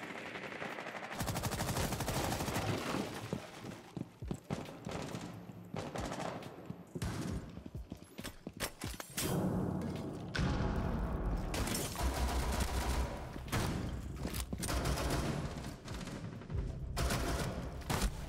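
Pistol fire in a video game crackles in rapid, close, loud bursts with brief gaps between them over a long stretch of sustained shooting, and nobody speaks over it.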